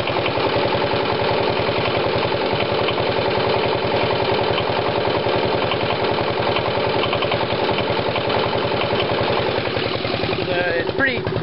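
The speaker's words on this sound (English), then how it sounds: "So it's got a nice idle speed now." A Coventry Victor engine idles steadily at a low, constant speed, its dense mechanical thrum close and loud throughout with no gaps.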